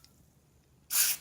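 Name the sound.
spraying dry lubricant aerosol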